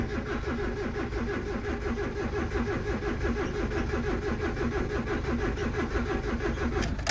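A van engine long left unused cranks and turns over, a steady rhythmic mid-pitched chugging that runs loud and continuous for several seconds without speech.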